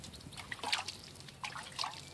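Water gently poured over cilantro seeds, soft splashes and trickles arriving in a few brief spurts, quiet and close, with no talking.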